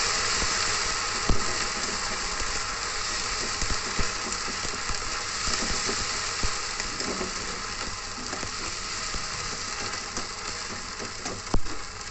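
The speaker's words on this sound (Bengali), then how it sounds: "এবার আদা বাটা দিয়ে দিলাম" Ginger paste fries in hot oil in a home kitchen pan, already seasoned with asafoetida, for a chana dal recipe with coconut, cashews and raisins; a steady close hiss and sizzle continues throughout, with a few brief clicks and pops and no talking.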